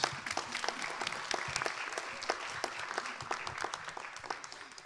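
Applause from a conference audience for the translators, a steady, moderately distant patter of many hands clapping that continues evenly throughout.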